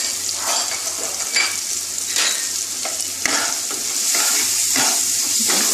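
Chopped green chili frying with spices in hot oil for masala baigan, a loud continuous sizzle broken by rhythmic stirring strokes and scrapes at the pan, close and without talk.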